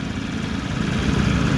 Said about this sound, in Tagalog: Ang problema nga may lato-lato dun sa makina.